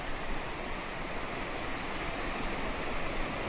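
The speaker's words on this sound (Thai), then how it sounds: "มันเป็นน้ำตกที่สวยมากมาก" Water pours steadily at Pha Tat waterfall in Thailand, a constant broad roaring rush that fills the whole clip without pause and with no voices.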